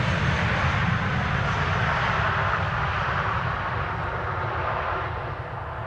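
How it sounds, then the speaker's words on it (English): A Boeing 777 freighter arriving at Amsterdam Schiphol Airport, a loud, steady jet engine roar that fills the whole stretch and begins to fade slightly near the end as the aircraft passes. "it's going to be a 777 freighter, arriving from Nairobi, Kenya"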